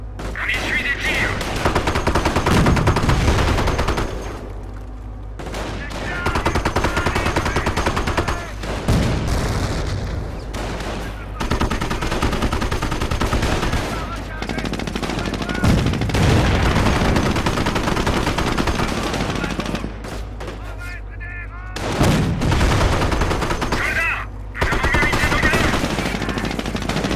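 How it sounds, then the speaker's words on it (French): Gunfire in a WWII video game with a Sherman tank, with sustained machine-gun bursts, rifle shots and heavy booms across a long battle, broken by brief pauses, under loud combat noise and occasional voices. "On essuie des tirs."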